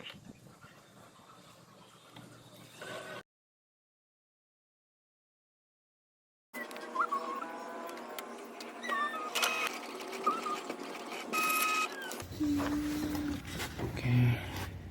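An inkjet printer runs a head cleaning cycle after refilled ink, giving mechanical whirring and clicking with brief tonal motor whines. The noise breaks off into a few seconds of silence, then resumes busier and louder, with no talking.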